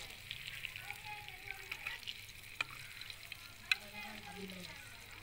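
Fish frying in a pan in 40-degree heat gives off a faint, steady sizzle and hiss, with a few sharp ticks and pops along the way.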